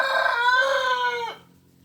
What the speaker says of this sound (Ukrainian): Півень не дає слова сказати.